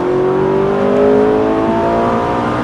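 A Lamborghini Gallardo LP560-4 or Ferrari 458 Italia engine revs hard and climbs steadily in pitch as it accelerates, loud and close, with no voices.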